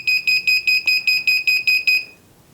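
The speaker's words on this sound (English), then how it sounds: "This is the beep of the accident." Smart glasses accident alert sensor sounding a loud, close electronic beep, nine short evenly spaced high-pitched pulses in quick succession, then stopping, with no talk.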